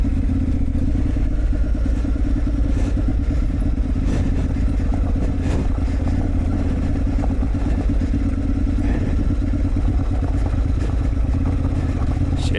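A motorcycle riding a stony green lane in rural South Dorset, its engine droning steadily and close throughout, with rattles and clatter from the bike bouncing over loose stones, no talking.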